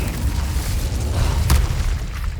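A fire spell blast in Hogwarts Legacy gives a dense low rumble with a brief bright burst midway, the booming explosion sound fairly loud and continuous over the short span.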